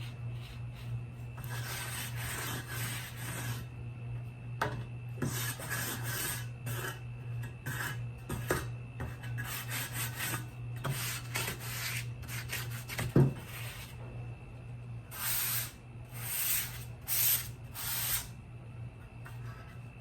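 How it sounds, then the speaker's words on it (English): Sandpaper is rubbed over a piece of furniture for light distressing, in repeated short bursts of dry rasping strokes, close and fairly quiet, with brief pauses between passes and a steady low hum underneath. "it's a very light distressing. I could probably use a higher grit if I really want to get in there."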